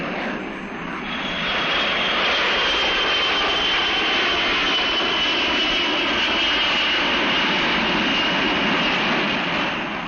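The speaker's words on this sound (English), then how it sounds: "an average of 5 airplanes are taking off or landing somewhere in these United States." A 1960s airliner taking off or landing, a loud sustained jet engine roar with a steady high whine, swelling in the first seconds and then holding near and strong throughout.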